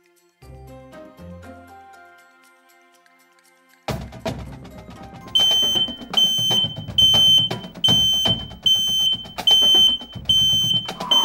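A ceiling-mounted smoke alarm in a rental house in Orimattila, Finland sounds loud, regular shrill beeps, following softer tonal notes at the start.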